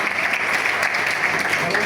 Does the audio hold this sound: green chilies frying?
no